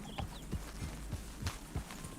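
Horse hooves in Red Dead Redemption 2, a faint steady clip-clop of about eight evenly spaced hoof strikes at a walking pace against a low ambient background.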